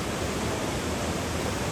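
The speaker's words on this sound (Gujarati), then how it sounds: "અહીંયા સરસ મજાનું ઝરણું પણ છે." A canyon stream rushes beneath a swaying suspension bridge in Lynn Canyon, Vancouver, a steady loud broadband wash of flowing water with no pauses or voices.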